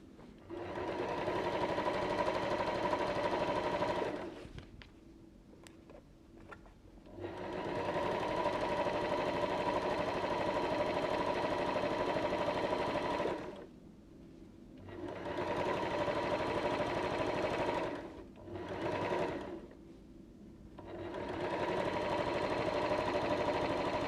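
A sewing machine runs a normal straight stitch along the top edge of fabric for a fold-flat basket, whirring steadily in several long bursts with short pauses between them, close and clear.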